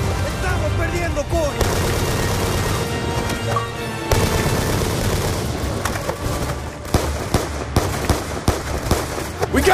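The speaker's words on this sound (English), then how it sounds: "Hudson, what are you shooting at?" Rapid bursts of gunfire and explosions fill a Black Ops 2 combat scene, with sharp repeated shots and booms over shouting voices and battle noise.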